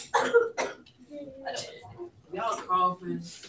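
Several bursts of coughing and throat clearing from a few people, mixed with voices in a math classroom; the coughs come in short clusters, fairly close.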